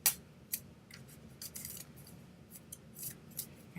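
Mitzvah cards are mixed by hand with quick papery swishes and flicks, several short bursts at an uneven rhythm, close and fairly quiet.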